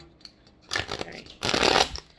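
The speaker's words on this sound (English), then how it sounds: "can I shuffle these cards?" A deck of tarot cards being shuffled close up: two quick bursts of riffling and flapping, the second longer and louder, with quiet pauses between.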